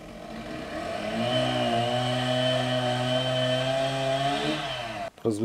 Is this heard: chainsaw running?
yes